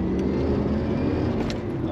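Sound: 1992 Lotus Carlton car driving

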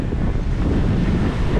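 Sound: wind at sea

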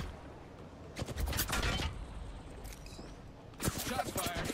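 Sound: gunshots in a video game (Apex Legends, Mirage)

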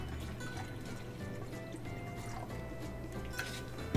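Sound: water being poured into a bag to fill it

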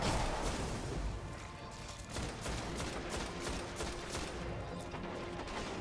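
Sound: gunfire in Destiny video game

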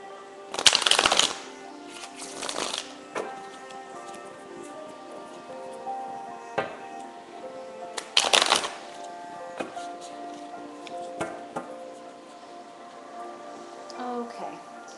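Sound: tarot cards being shuffled

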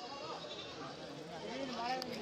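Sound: goats bleating at a goat market

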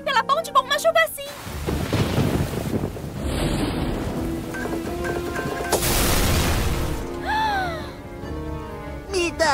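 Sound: rain

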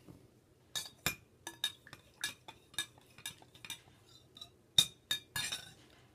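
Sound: stirring rum punch in a glass

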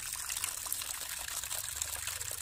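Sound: water being poured into surf detergent for cleaning a fan

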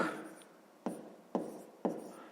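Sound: writing numbers by hand

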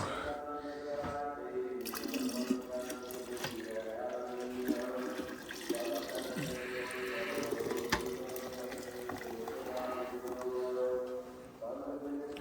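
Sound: milk being poured into a container

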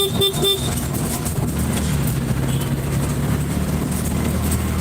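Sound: city road traffic with car horns honking

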